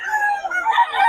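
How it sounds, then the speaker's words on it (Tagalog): Chickens and roosters at a Bocaue market, several birds clucking and crowing close by in a busy, overlapping chorus. "Ito yung mga manok niya."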